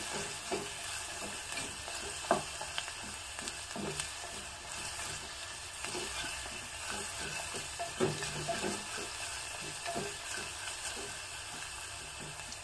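Onions and garlic softening in oil in a pan for Mangalore Brahmin style tilisaru, a soft continuous sizzle broken by stirring scrapes and light clicks of a utensil, close and steady with no talk.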